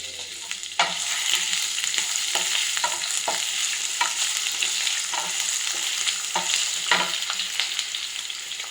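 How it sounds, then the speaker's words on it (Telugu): Dry coconut and ginger garlic paste frying in a pan, a steady close sizzle with repeated sharp scrapes and taps of a spoon stirring, no talking. "జింజర్ గార్లిక్ అదొక 1 స్పూన్, ఇది 1 స్పూన్ అంత వేసుకొని వేసేసి ఫ్రై చేస్తాము."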